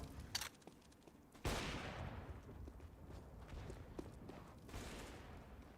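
Rifle fire in a competitive CS:GO match, quiet and somewhat distant: a sharp burst followed by a sustained rattling volley and a later shorter spray.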